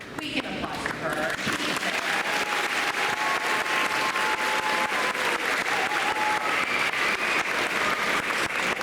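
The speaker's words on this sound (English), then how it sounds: "We can applaud for her." An audience at a school award ceremony claps steadily for a counselor coming to the stage, dense sustained applause filling the room, with a few voices heard over it.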